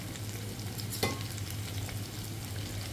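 Chicken frying in a small amount of oil for hotel-style Schezwan chicken, a steady soft sizzle with a low hum beneath and one brief stir or clatter partway through, no voices.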